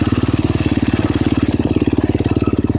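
A KTM 350 XCF Factory Edition dirt bike engine runs steadily while riding singletrack, with a loud, close, rapidly pulsing exhaust beat that holds an even rhythm throughout and no voices over it.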